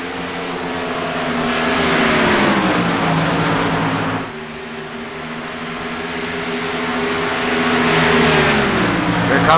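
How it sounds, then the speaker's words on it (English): Chevrolet stock cars race around the Chicagoland oval in a sim racing league event, engines droning loud and steady with rising and falling pitch as cars pass, under continuous race commentary. "Here comes that 25 car of Joshua Hetrick making his own run."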